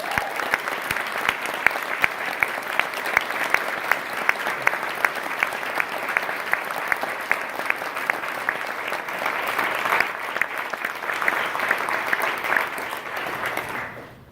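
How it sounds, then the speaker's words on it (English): Audience at an Alpha Sigma Nu event giving a round of applause, dense sustained clapping that stays steady and fairly loud for about fourteen seconds before cutting off. "If you can give them a round of applause."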